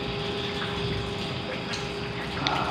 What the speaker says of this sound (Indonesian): Soalnya ini teh hujan deras.